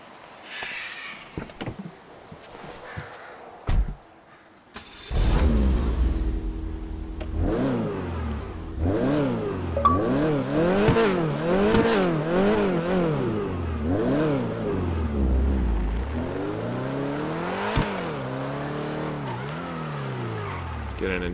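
Grotti Cheetah Classic sports car in GTA 5: engine startup followed by repeated loud revving, the pitch sweeping up and down in rising and falling waves, with a few clicks before ignition.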